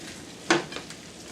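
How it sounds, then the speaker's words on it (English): A short burst of sizzle as a splash of wine hits a hot pan of shrimp scampi, one sharp hiss that quickly fades into quieter crackling. "You can hear it kind of sizzle up."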